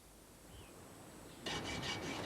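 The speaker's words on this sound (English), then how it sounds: "cut the rod with a hacksaw." A hacksaw cutting through a metal pump rod on an Afridev handpump, starting after a quiet stretch with a few close, rhythmic rasping strokes.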